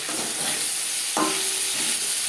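Potato and okra stir-frying in a pan with ginger and green chili paste: a steady, loud sizzle with a brief scrape of stirring partway through.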